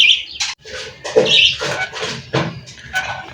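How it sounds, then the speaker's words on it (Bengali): A pair of pet pigeons, male and female, give a few short close calls and chirps with soft rustling between them; nobody speaks. "এই কবুতরের আসলে কি নাম আমি সঠিক জানি না।"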